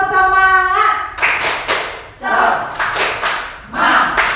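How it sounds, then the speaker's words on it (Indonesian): Seminar participants clap together in a rhythmic cheer pattern, several bursts of group claps separated by brief pauses, with voices calling out between them. "1, 2, 3. Tepuk semangat."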